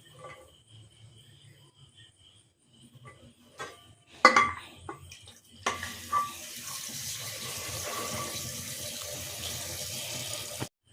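Water is poured into a pot of chickpeas in a home kitchen, a steady close splashing stream lasting several seconds after a sharp clink and some quiet handling sounds.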